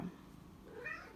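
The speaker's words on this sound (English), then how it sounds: "Meow." Pet cat in an apartment giving a single short, faint meow amid quiet room ambience.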